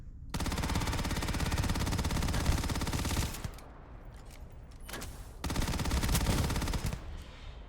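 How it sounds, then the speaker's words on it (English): Incendiary weapon fire in the video game Starfield, rapid automatic bursts of loud popping shots in two long volleys separated by a brief pause. "And now the pop from the incendiary."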